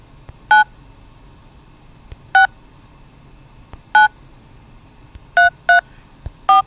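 Mobile phone keypad tones sound while a number is dialed, six short, clean beeps in an uneven sequence with brief gaps, close and clear over a faint background hiss.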